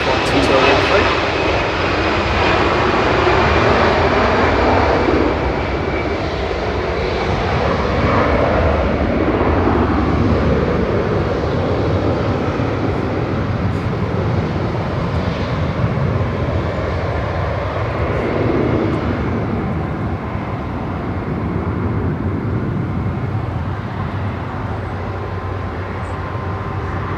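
A plane departing Manchester Airport for Alicante, a loud sustained engine roar that holds steady for the whole stretch, with a voice talking over it.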